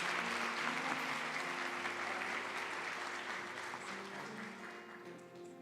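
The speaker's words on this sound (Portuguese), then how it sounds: "Louve o Senhor Jesus, irmãos, suas palmas por essa família." A church congregation applauding for a family, a soft, steady wash of clapping that slowly fades, heard from a distance over a faint low hum.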